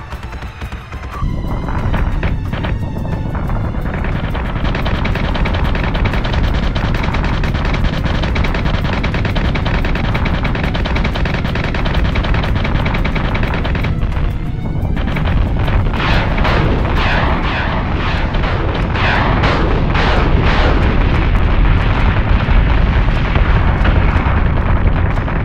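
Dense flak fire and explosions from a space battle in Battlestar Galactica Deadlock roar continuously at high volume, a relentless barrage of booms and rapid cannon bursts layered into a thick wall of noise.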